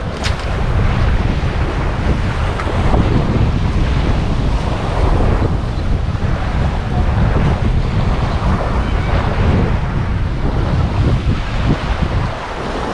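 Ocean waves and strong wind at a beach roar steadily and loudly throughout, with heavy wind buffeting the microphone and no speech.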